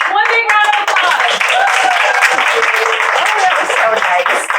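A room at a school board meeting breaks into applause for a staff member, a lively crowd of clapping hands with cheerful voices and exclamations rising over it throughout.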